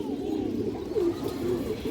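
Thirteen-tailed pigeons coo in soft, low, rolling phrases close by, a couple of distinct coos rising over a steady murmur of birds.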